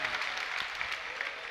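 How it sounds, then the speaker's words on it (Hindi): A seated audience at a Jain religious sermon in Nemawar claps together, producing a steady, dense wash of applause at moderate distance that lasts throughout. "अब ये मालूम नहीं पड़ रहा कि तालियां काय की बज रही है"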